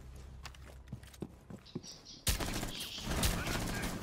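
Gunfire in Rainbow Six Siege: a string of sharp, separate shots pops at mid distance, then a sudden louder burst of sustained automatic fire takes over, with faint talk in the background.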